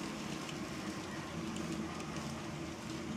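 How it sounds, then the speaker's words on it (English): An N-scale model of a WWII Army transport train runs along a layout with a continuous, even rolling whir and faint rattle that holds steady throughout. "This is an approximate representation of a World War II Army transport train."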